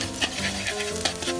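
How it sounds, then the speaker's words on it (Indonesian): Chopped snake meat sautéing in a pan outdoors in a forest for snake soup, a steady close sizzle with scraping stirs and a couple of sharper clatters, no talking. "Kita tumis dulu."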